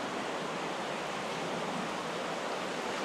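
A limestone waterfall splashes inside the Phou Pha Souk cave, a steady, even rushing hiss of falling water that fills the space without break.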